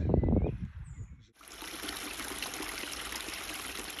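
Water trickles and seeps steadily through a beaver dam, a continuous close rushing wash that begins abruptly after a brief quieter, murkier opening and then holds even to the end.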